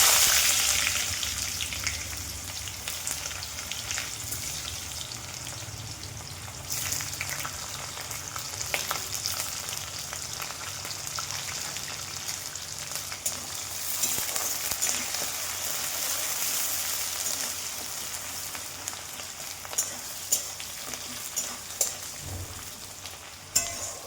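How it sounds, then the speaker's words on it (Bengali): Onion and potato frying in a pan with cumin and bay leaves, a steady crackling sizzle throughout with occasional stirring scrapes and small pops toward the end, no talking. "পেঁয়াজ আর আলু একসাথে ভেজে নেব।"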